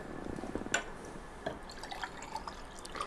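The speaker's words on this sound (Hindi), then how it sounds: "सबसे पहले पानी हम गिलास में डाल लेते हैं।" Water poured into a glass indoors, a soft trickle with a few light drips and clinks, faint and close, with no talking.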